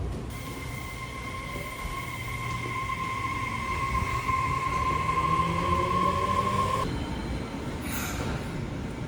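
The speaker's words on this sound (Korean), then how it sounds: "지하철이 네, 가는 거같죠" A subway train in Fukuoka runs past nearby with a steady rumble and a long high wheel squeal that fades out near the end.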